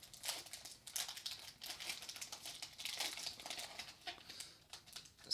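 Plastic wrappers of Pokémon card duo packs crinkle and rustle as they are torn open, close and fairly quiet, in irregular bursts of crackling throughout.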